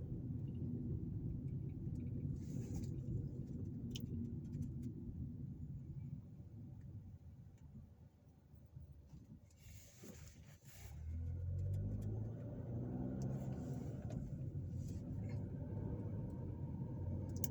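A car drives through the streets of East Chicago, Indiana. Its engine rumbles low and steady throughout, easing off midway and then building back up as it accelerates. There is no talking.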